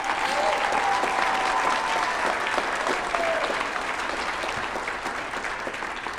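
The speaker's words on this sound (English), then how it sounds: "Please give all of them a round of applause." A comedy roast crowd gives a full round of applause, thick continuous clapping that holds steady and fades slightly toward the end, with a faint whistle near the start.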